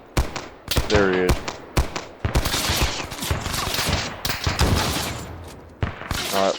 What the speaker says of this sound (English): It sounds like maybe a shotgun, I'm not sure.